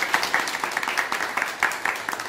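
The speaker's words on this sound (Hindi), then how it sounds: "ताली बजा दीजिए" An audience claps in steady applause at a talk on SMD electronic components, close and continuous, with faint voices mixed in.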